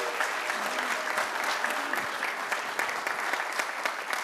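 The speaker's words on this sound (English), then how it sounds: "Can we give them a round of applause?" A room full of people claps steadily and continuously, a dense patter of applause that holds at an even level.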